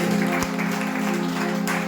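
Congregation applauding for Jesus during a Sunday church service, a dense wash of clapping with a sustained tonal hum beneath it, fairly loud throughout.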